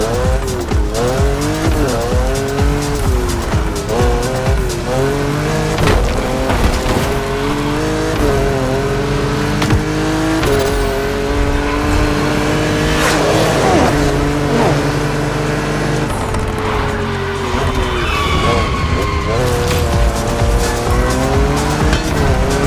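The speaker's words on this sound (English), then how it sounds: "There's an absolute classic heading your way, a grail among collectors and Jim's greatest pride, the Mustang Boss 429." A Mustang Boss 429 muscle car races hard in a video game, its engine note rising and falling through gear changes under squealing, skidding tires, loud and continuous throughout.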